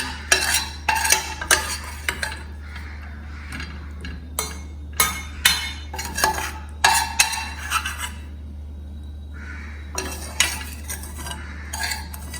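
Masala being scooped and transferred in a pan with a metal spoon, heard as repeated close scraping and clinking strokes in irregular bursts over a low steady hum, with a short pause midway and no speech.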